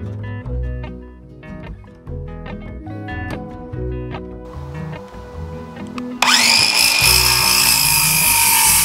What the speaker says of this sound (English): So I'm gonna slice the tops off of those.